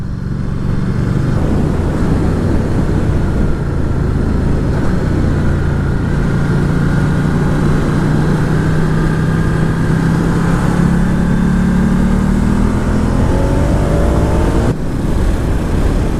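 Ducati Diavel 1260S motorcycle engine droning steadily and loudly throughout a cruise through a village, with a rising pitch near the end as it accelerates, no talk.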